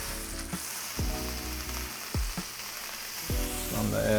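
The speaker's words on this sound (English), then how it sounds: "Get that nice sizzle there." A steak's fatty edge sizzles in a hot pan while a steak sandwich is being made. The frying hiss is steady and close, and a few sharp clinks and taps sound over it.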